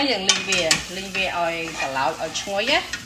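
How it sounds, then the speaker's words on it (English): Dried chili toasting in a hot pan gives a steady light sizzle with stirring and scraping, under a tonal, voice-like backing sound. "going to toast this to release the nice smoky flavor of the chili"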